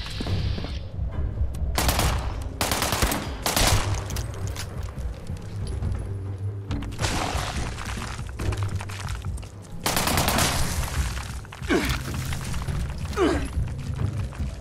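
Rifle loaded with incendiary rounds firing in Fallout 76, several sharp bursts of rapid shots separated by short pauses, loud and close amid game ambience, with no speech over it.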